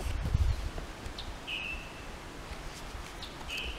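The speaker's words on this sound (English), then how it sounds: "Hear the birds?" Birds calling outdoors in spring, a few short, thin chirps rising over a steady low rustle and murmur, fairly faint and spaced apart.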